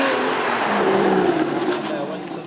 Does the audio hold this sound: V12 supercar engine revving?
yes